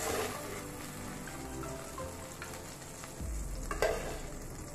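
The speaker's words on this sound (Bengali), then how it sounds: "আমি একটু নুন দিয়ে ফুলকপিগুলোকে ভেজে নিচ্ছি" Cauliflower pieces frying with salt in oil for a Bengali khichuri, a steady close sizzle with occasional stirring scrapes and crackles throughout.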